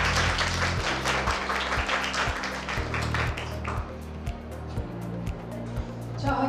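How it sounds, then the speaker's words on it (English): An audience claps at a school innovation and creativity fest, with fairly dense applause that gradually thins, over a steady low hum from the hall. "So claps for you."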